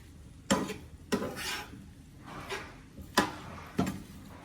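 Spinach mixture stirred in a pan, five sharp spoon scrapes and clanks against the pan at uneven intervals, close and clear over a faint low sizzle.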